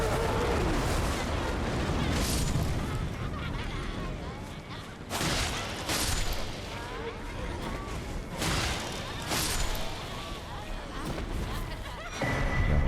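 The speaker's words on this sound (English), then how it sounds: "Because they kind of explode if they run at you." Exploding enemies in the Elden Ring video game, heard as several heavy booming blasts and bursts over continuous battle noise, with people talking throughout.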